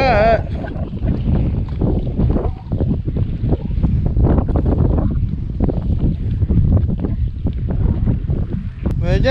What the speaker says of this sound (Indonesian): angin kuat sangat ni depan ni